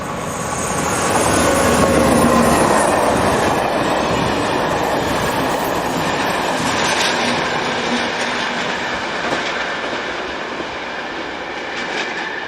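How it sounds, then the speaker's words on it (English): A passenger train running from La Rochelle to Bordeaux passes by, a loud rolling rush with clattering wheels that builds quickly then holds and eases gradually, alongside a motorway in the background. "This is the 1750 La-Rochelle to Bordeaux."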